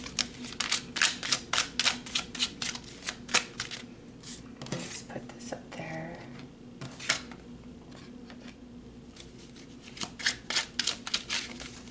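Tarot cards are shuffled in a quick run of crisp riffling slaps and flicks, close and fairly loud, with a brief pause in the middle before the shuffling resumes.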